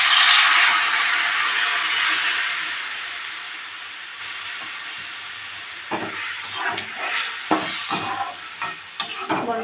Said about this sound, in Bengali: সেদ্ধ ডালটা এটা দিয়ে দেবো।